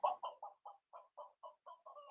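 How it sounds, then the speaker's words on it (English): Chicken clucking played as a sound effect: a quick run of about ten short, evenly spaced clucks, clear and isolated, with no talking over them. "Here's your cluck, Katie."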